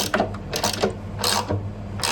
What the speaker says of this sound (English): so tighten the bolts down